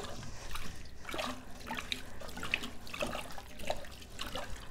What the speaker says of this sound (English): plunge it into the cold water and let the cold water run through it.